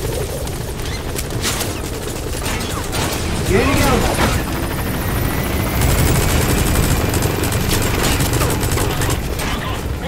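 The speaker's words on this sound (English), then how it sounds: "We want the other helicopter to come over here and start shooting us." Metal Gear Solid 5 combat: a helicopter's rotor drones steadily while rapid gunfire and impacts crackle on top, loud and dense throughout, with occasional speech mixed in.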